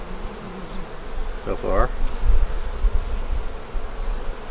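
Honeybees hum densely around an opened hive, a continuous close buzz that carries on under a brief spoken remark.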